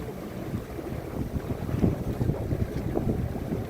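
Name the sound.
canal tour boat sailing through Copenhagen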